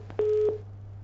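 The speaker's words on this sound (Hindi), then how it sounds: "फोन डिस्कनेक्ट हो गया है।" A single short electronic telephone-line beep sounds for about a third of a second after a caller's line drops during a phone-in, over a steady low electrical hum.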